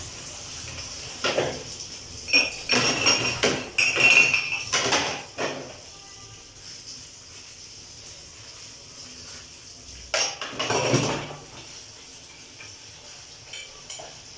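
Dishes and cutlery clatter in a sink with running water, in irregular bursts of clinking and splashing, then a quieter stretch before another burst.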